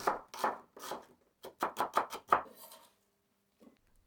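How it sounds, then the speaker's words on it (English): Onions sliced with a knife on a board for beef banh mi, about eleven crisp chopping strokes in quick succession, close and clear, followed by a brief quiet tap. "Slice 2 onions."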